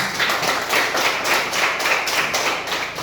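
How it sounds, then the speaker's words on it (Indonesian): A classroom claps for a student discussion group in rhythmic bursts, the group slapping hands together at a steady pulse that repeats roughly every quarter second. The sound is loud and close, with no talking. "tepuk tangan dulu untuk kelompok 1 sekali lagi"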